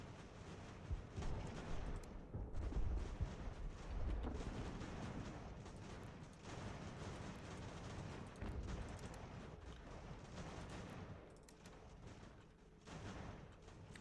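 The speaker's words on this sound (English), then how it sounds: "watch the friendly fire artillery" Artillery fire in the game Ultimate General: American Revolution, distant muffled booms and a continuous low rumble that rises and falls across the battle, with wind-like noise over it.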